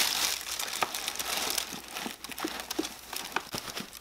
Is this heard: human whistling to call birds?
no